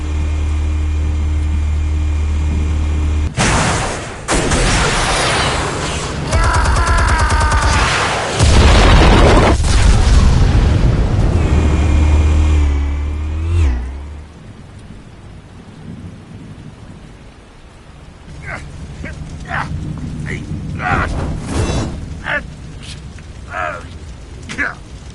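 Explosives detonating in Batman: The Telltale Series video game, heavy rumbling booms and crashing blasts for the first half, fading into quieter game sounds with voices later.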